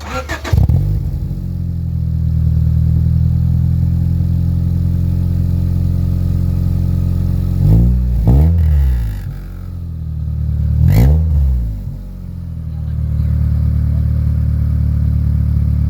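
A loud, deep CB7 car engine idles steadily with its exhaust silencer removed, a harsh, unmuffled drone, briefly revved twice into sharp, rising roars before settling back.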